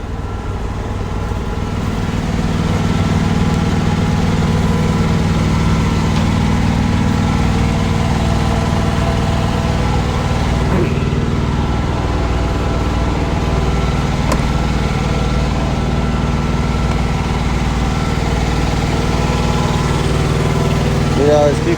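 A semi truck's diesel engine idles and rumbles low and steady while backing up a trailer, a continuous heavy drone close by with a voice talking over it.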